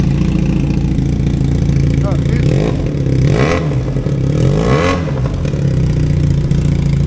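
A modified-exhaust Benelli 502C motorcycle engine idles loudly and blips its throttle a few times, the exhaust note rising and falling in short revs throughout.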